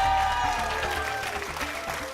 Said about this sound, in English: Were you applauding? Were you clapping